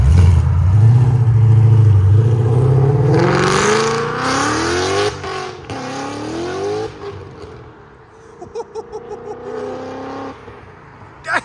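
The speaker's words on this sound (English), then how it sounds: "770 horsepower Ford Mustang that's fully built, supercharger and all" A 770-horsepower supercharged Ford Mustang GT with a 5.0-liter V8 and its exhaust valves open revs hard nearby, climbing to a loud roaring wail, then drops back to an idle with sharp blips at the end.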